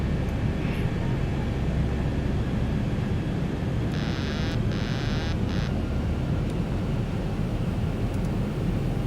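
A Zibo Boeing 737 landing in the X-Plane 11 flight simulator: steady, loud broadband engine and airflow roar throughout, with a brief tonal chime partway through.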